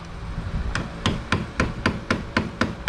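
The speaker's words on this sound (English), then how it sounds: "We'll just give it some little tappy tap taps." A hammer taps an aluminum piece fitted with a lock nut on an e-bagger motorcycle conversion, striking about nine light, evenly spaced metallic blows in a steady rhythm, close and clear with no talking.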